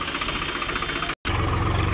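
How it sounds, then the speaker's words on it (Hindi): A tractor engine runs in a steady, close, throbbing chug with a slight knock. The sound cuts out for a split second before carrying on. "ये रहे हमारा हस्बैंड जी, ट्रैक्टर लेकर आ रहे हैं।"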